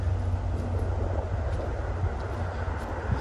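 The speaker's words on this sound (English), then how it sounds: "Sorry, you may hear a train in the background." A train rumbles past in the background near a cemetery, a steady low roar that holds at the same level throughout and is heard alone at moderate distance.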